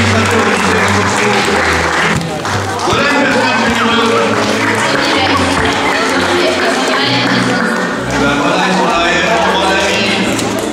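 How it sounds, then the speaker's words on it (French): An audience at a Francophonie awards ceremony applauds an honoured council administrator, steady crowd clapping mixed with a speaker's amplified voice talking over it and brief dips in the middle. "applaudissez M. Bernard Bravo"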